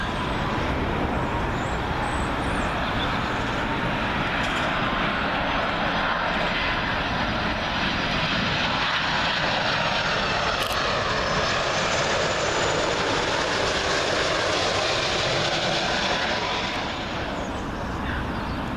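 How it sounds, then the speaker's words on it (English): A Virgin Atlantic Airbus A330 arriving from Bridgetown comes in to land on runway 27L at Heathrow, a loud, continuous jet roar passing close overhead that swells and then slowly eases away. "Up next will be Virgin Atlantic A330 coming in from Bridgetown."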